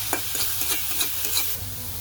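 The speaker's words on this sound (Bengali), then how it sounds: "এখন আমি নেড়ে চেড়ে শাকটা নামিয়ে ফেলবো" Hechi greens are stirred and tossed in a hot frying pan, with a steady sizzle under repeated scraping strokes across the whole clip, close up and with no voices.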